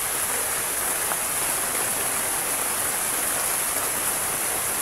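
Heavy rain pours in a dense, steady hiss without pause, loud and close, with no voices over it.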